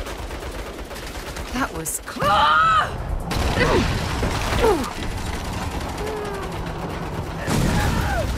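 Turret gunfire in the Saints Row video game: loud, sustained bursts of automatic shooting with sharp impacts and ricochet whines, under shouted voices.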